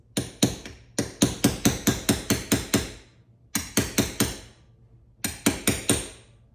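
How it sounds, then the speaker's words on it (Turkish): A brass pin is hammered into a Sarsılmaz Kılınç 2000 pistol with sharp metallic taps in three rapid bursts, close and distinct, with short pauses between them. "Sonra bakın şöyle bir pin. Pirinç ya da sarı diyeyim ben size. Bununla çakmanız lazım yoksa çizersiniz."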